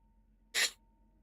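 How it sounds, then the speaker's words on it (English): A single sharp sneeze bursts out of a quiet background during a gaming session, brief and close, with no other voices. "I'm just like having a sneeze fest"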